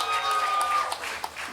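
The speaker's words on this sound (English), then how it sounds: "Can we clap it over that, guys?" A small comedy club crowd claps and applauds briefly, a thin, scattered patter of hands with a few sharper individual claps, while a tone rings under it at the start.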